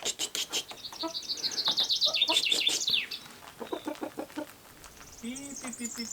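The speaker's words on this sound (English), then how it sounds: "Rooster is in panic because girlfriend is under the house." A rooster clucks and calls in agitated, panicky bursts, fairly close and fairly loud, with its rapid repeated clucks filling most of the clip alongside other bird chirps.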